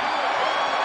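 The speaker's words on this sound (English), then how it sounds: "the cheer you hear from Cyclone Alley is for Jazz Kuntz entering the game for the first time" Brief burst of crowd cheering from the Cyclone Alley student section at an Iowa State versus Kansas college basketball game, a full, loud roar sustained across the moment.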